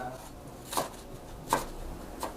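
Three quiet knife chops cut spring onions into pieces on a cutting board at a steady, unhurried pace, with nothing else heard.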